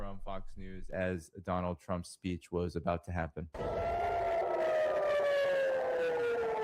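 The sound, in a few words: air raid sirens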